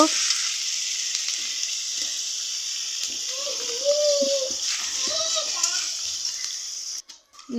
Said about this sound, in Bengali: এই যে দেখেন পেস্টকুচি দিয়ে নেড়ে ছেড়ে দিয়েছি পেস্টটা একটু ভাজা ভাজা হওয়ার জন্য অপেক্ষা করতেছি